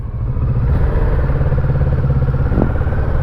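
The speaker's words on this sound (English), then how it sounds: "he is going to be riding the Super Tenere. I'm riding the 650R," A Yamaha Super Tenere and a Kawasaki 650R motorcycle pulling away together, engines loud and close with a steady low drone and a brief clattering note near the end, no talking.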